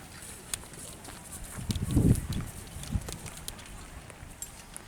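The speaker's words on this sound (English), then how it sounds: "the horses are just sort of walking in different directions now" Privately owned horses walking in different directions and in lines at a Civil War muster in Jackson, Michigan, hooves thudding and clopping irregularly at moderate distance, with a louder cluster of steps in the middle over outdoor background noise.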